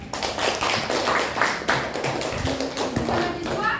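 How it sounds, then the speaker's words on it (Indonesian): Group applause in a classroom for the first team, a dense, continuous patter of many hands clapping at once, steady and fairly loud for a few seconds with faint background voices. "Tepuk tangan buat kelompok 1."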